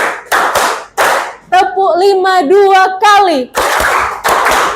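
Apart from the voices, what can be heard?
group clapping in a concentration clapping game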